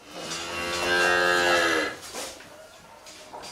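A dairy cow on a farm gives one long, drawn-out moo that swells and fades, followed by a softer trailing call and faint farmyard background.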